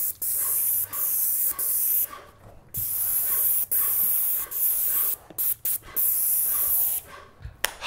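Airless paint sprayer spraying trim in a kitchen, a loud steady hiss broken into repeated bursts of a second or two with short silent gaps between passes.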